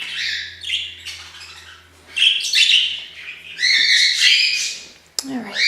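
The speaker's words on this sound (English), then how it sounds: "there's a baby pigeon outside that I raised" A young pigeon raised by hand calls repeatedly outdoors, with high squeaky chirps and squawks in irregular bursts, fairly close, with faint background noise.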